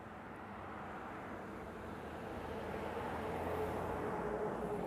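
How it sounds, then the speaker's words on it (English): A Boeing 747-8 airliner arriving at Honolulu, a faint, steady distant jet rumble that swells slightly as it approaches. "It's a 747-8. It's coming in from Seoul."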